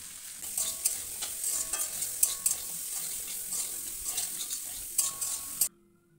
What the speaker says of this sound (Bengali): তারপর আমি কড়াইশুঁটি দিয়ে দেব, ক্যাপসিকাম, কড়াইশুঁটি সব কিছু দিয়ে আমি আর একটু ভেজে নেব।